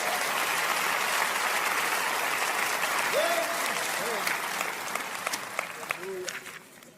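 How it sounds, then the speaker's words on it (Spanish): Applause from a church congregation for a group of young men, a dense burst of clapping that thins into scattered individual claps toward the end, with brief voices calling out over it. "Vayan, denles un aplauso a esos muchachos, por favor."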